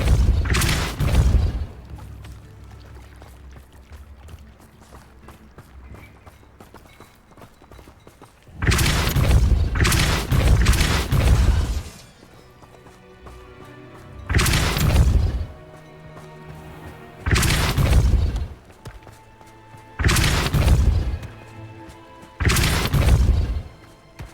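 Depulso spell blasts in a Harry Potter video game, five loud booming bursts of smashing and crashing objects, each roughly a second long, separated by quieter stretches of ambient game sound and faint mechanical rumble.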